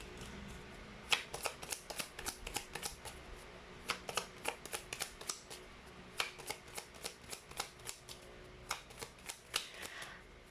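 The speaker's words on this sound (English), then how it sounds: "let's get another set of cards" A deck of tarot cards is shuffled in several quick bursts, each a flurry of crisp riffling flicks separated by short pauses, close and clear with no talking.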